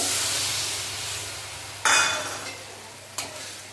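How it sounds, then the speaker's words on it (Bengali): Spice paste fries in a pan for a prawn dish, a soft hissing sizzle that gradually fades, broken by two sharp bursts of stirring and scraping near the end, with no speech. "মশলাটাকে ভালো করে ভেজে নেবো"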